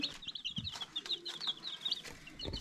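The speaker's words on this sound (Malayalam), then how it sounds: "ഇപ്പോൾ കേടായ ഫ്രിഡ്ജിൻ്റെ ഉള്ളിലാണ് ഇപ്പോൾ ഈ കോഴിക്കുട്ടികളെ വെച്ചിരിക്കണത്" Many newly hatched chicks cheep in a rapid, continuous high-pitched chatter inside a broken fridge, close by, with a few soft knocks underneath.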